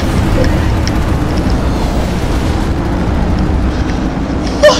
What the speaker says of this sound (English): There's explosions everywhere!